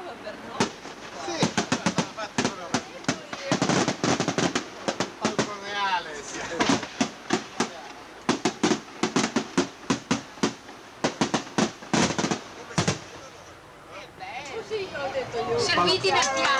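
Fireworks crackle and bang at the Bassanello festival, bursts of sharp pops and rapid crackling volleys coming in clusters amid a crowd's chatter, with people talking close by.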